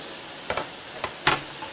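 Spanish onions hitting a hot pan give a soft, steady sizzle with a few brief scraping stirs, close and fairly quiet, with no talking.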